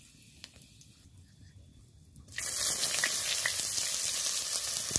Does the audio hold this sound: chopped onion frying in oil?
yes